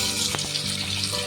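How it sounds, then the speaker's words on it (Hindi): Lentils (dal) are washed in water, giving a steady, close rushing and swishing of water with a couple of brief knocks and no talking. "ये दाल मैं ले ली हूँ, अब इसको धुलेंगे"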